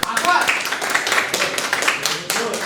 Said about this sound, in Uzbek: Jasur akani qarsaklar bilan kuzatib qo'yamiz.